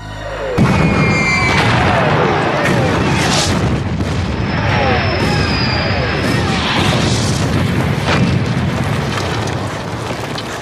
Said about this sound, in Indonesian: Unit Sersan Rizzo yang tengah bersantai tiba-tiba dikejutkan dengan sebuah serangan artileri yang begitu dahsyat dari pihak Inggris.